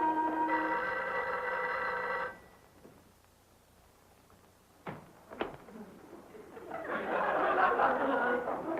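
A telephone rings with a bright, steady bell for about two seconds, then quiet follows, a couple of sharp knocks, and a burst of laughter and chatter near the end.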